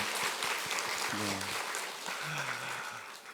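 Church congregation applauding during a Sunday morning Easter worship service, a steady wash of clapping filling the room while voices rise briefly above it.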